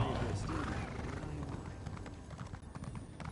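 Video game horse hooves clip-clop in a fast, steady rhythm, accompanied by a neigh and set against game sounds, while a person talks over the top.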